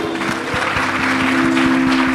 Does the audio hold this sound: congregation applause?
yes